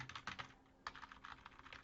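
Card details being typed on a computer keyboard: a quick run of light, close key clicks in two short bursts with a brief pause between, quiet and alone.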